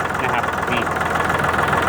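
A used Kubota L3608 DT tractor's diesel engine idles close by with an even, continuous rumble that holds steady from start to finish.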